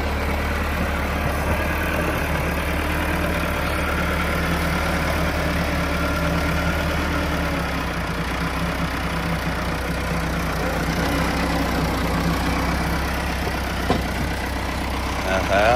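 A Massey Ferguson 375 tractor engine drones steadily and heavily as it pulls a heavy super seeder through a field, a constant loud rumble that barely changes throughout.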